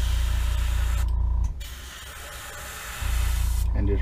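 An airbrush sprays paint onto a blank fishing lure up close, a steady hiss that cuts out briefly for about a second and a half, then resumes.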